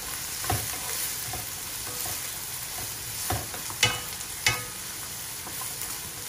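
Chicken mushroom spicy korma being stirred in a frying pan, a steady sizzle with scraping spoon strokes and a few sharper clanks against the pan, close up and without talking.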